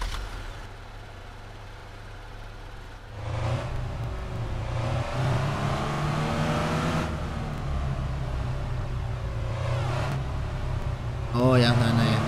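Truck in a heavy machines simulator game cranking to life, then a low diesel rumble that swells as it revs and settles, with a hiss of air near the end; someone talks over it throughout.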